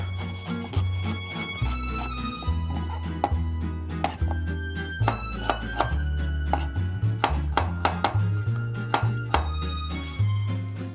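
Knife rough-chopping garlic and shallot on a cutting board, a quick irregular run of sharp close thunks repeating steadily with no voices over it.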